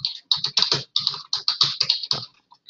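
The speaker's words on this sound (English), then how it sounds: "I'll type it in the chat here." Rapid typing on a computer keyboard, with irregular bursts of keystrokes clattering close and clear for a few seconds before trailing off, no voices over it.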